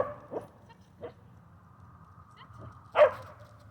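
A dog barking during training alongside another dog: a few short barks spaced apart, the last and loudest one near the end, over a low rumbling background.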